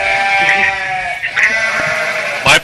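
A sheep bleating sound effect fired from a radio DJ console plays loudly and up front, a sustained wavering bleat followed by a few shorter bleats near the end.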